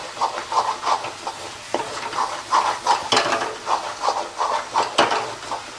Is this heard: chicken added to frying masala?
yes